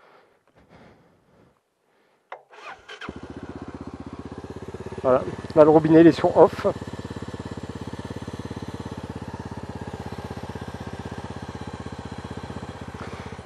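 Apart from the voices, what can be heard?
motorcycle engine running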